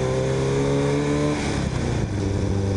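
A Kawasaki motorcycle engine, noticeably more aggressive than a Honda, revving loud and close with a steady tone that drops as the revs fall and then settle, without speech.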